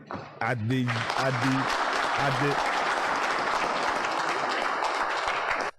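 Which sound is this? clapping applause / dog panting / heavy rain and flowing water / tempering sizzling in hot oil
clapping applause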